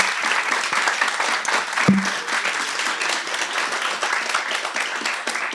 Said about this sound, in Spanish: les pido por favor un fuerte aplauso para todos los ponentes